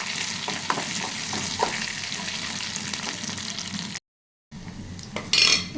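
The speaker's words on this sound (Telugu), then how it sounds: "ఇది కొంచెం బ్రౌన్ కలర్ వచ్చే వరకు వేగనిద్దాము" Ingredients for tamarind leaf dal fry in a pan with a steady close sizzle, broken by scraping stirs and utensil clinks against the pan, with a brief silent gap before the sizzling resumes.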